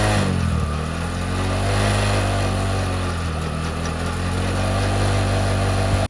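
A motorcycle engine runs loud and close on a dirt patch during a stunt, a steady throaty drone with slight swells of revving that cuts off abruptly at the end.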